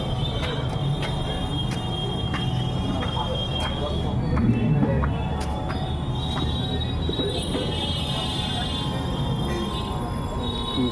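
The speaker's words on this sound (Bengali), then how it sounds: "আর এই ট্রেনটাও ঠিক ঢুকে গেল।" A train pulls into a station platform on a suburban line near Serampore, a steady broad rumble with faint wheel squeal and clatter running throughout, fairly close; people talk faintly over it.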